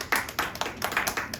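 Church congregation at a Korean high school Sunday service clapping in congratulation, a quick run of sharp hand claps in an irregular rhythm, fairly close and moderately loud.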